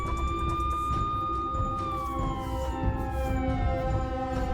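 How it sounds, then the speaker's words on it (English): Police sirens wail behind a moving car, their tones sliding slowly downward over a constant rumble of road noise. The sirens are loud and steady throughout, with no talking. "So he just continued to drive, trying to ignore the sirens following him."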